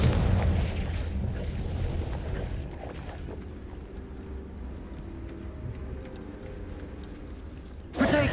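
A fiery Confringo blast spell in a Hogwarts video game opens with a heavy, close boom that fades into a long low rumble, then a second sharp burst erupts near the end.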